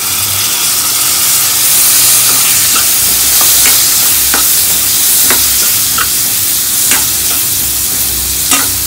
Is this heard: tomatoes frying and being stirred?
yes